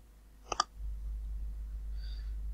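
Two quick computer mouse clicks land close together, crisp and near, before a steady low hum carries on with no other activity.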